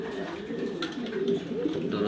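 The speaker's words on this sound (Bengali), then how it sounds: "এখানে 6 পিস কবুতর আছে" Six pigeons coo softly and continuously at close range, their low, rolling calls repeating over a steady background hum.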